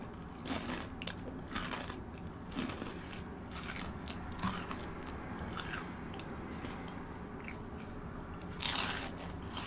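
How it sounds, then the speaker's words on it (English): Crunchy bites of tteokbokki and steady chewing continue close to the microphone, with sharp crackling bursts over a soft, constant background hum. "Should I take a crunch out of a tteokbokki?"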